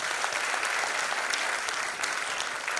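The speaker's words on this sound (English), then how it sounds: "please give a big round of applause to Mr." Audience applause at a graduating-class convocation ceremony, a dense, even wash of many hands clapping, loud and continuous with no voices standing out.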